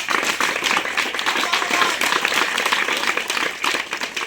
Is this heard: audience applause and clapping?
yes